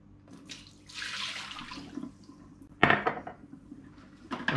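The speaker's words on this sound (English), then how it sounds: "just pour out all that liquid." Liquid is poured out of a stained mug into a kitchen sink with splashing and a few clinks of crockery, fairly faint and close, with no talk.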